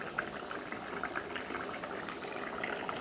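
Water poured into a cooking pot for an Odia-style banana and besan veg fish curry, a soft, faint, continuous gushing and bubbling with no talk.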